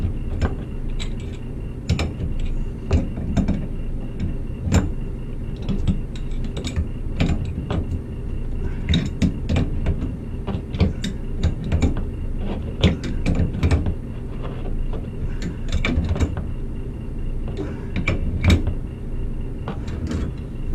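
Crescent wrench tightening a toilet supply valve in a gas station restroom, a dense run of close metallic clicks and scrapes in an uneven rhythm throughout, steady and fairly loud.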